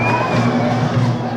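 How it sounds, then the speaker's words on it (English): Crowd cheering and shouting as a paper fire-balloon lifts off at a Burmese festival, a dense steady roar of many voices close by with no pause across the moment. "And now it takes off amid the cheers of the crowd."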